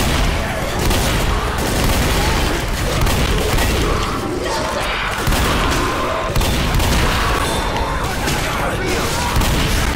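Sustained chaotic combat noise from Left 4 Dead: The Sacrifice, with a Molotov fire and dense gunfire blending into a steady loud roar of shots and thumps that runs throughout.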